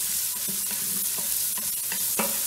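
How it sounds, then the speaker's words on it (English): Onions and peppers sizzle in a pressure cooker pot for American chop suey, with steady frying hiss and a few clear scrapes and clacks of a spoon stirring, close and moderately loud, no talking. "I'm gonna add our onions. And our peppers. Give this a little stir."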